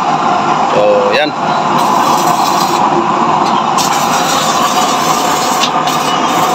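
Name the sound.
used-oil burner stove roaring with strong flame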